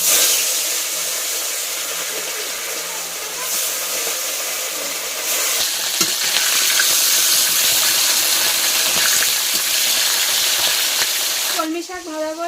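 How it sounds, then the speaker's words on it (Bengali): Water spinach (kalmi shak) fries in a pan with a loud, close, continuous sizzle, interrupted by stirring scrapes and clinks; a voice speaks briefly near the end. "কলমি শাক ভাজা করছি"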